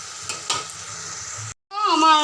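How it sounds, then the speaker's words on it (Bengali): Spices frying in a pan with onion, tomato, ginger and garlic give a steady close sizzle with stirring scrapes, then a short silence before sizzling resumes with a bright, wavering hiss. "পেঁয়াজের সঙ্গে একসঙ্গে ভাজা করে নিচ্ছি পেঁয়াজ আর টমেটো আদা রসুন দেওয়া হয়ে গেছে এবার মশলাগুলো একটু ভাজা হোক"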